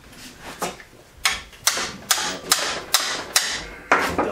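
A series of sharp hammer blows, about seven strikes at a fairly steady pace, close and loud, with faint clatter between them.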